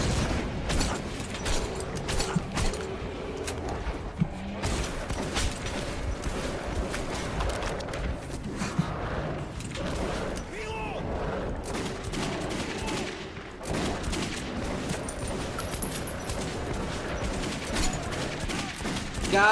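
Dense, continuous gunfire from the video game Metro 2033 Redux, with rapid overlapping shots and booms sustained loudly throughout, mixed with mechanical clatter.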